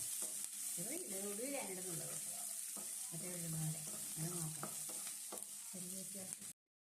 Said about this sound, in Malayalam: സവാളയൊക്കെ നന്നായിട്ടൊന്ന് വഴന്ന് വരണം കളറൊക്കെ ഒന്ന് ചേഞ്ചായി വരുന്നവരെ നമ്മളിതൊന്ന് വഴറ്റി കൊടുക്കണം